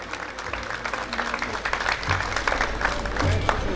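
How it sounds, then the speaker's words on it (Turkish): Applause from the crowd at a community food festival held by a Gaziantep hometown association in Istanbul, a steady clatter of hands with a low hum and faint murmuring underneath, growing slightly louder toward the end. "şöyle emeği geçen herkes için güzel bir alkış alalım mı onlara efendim lütfen?"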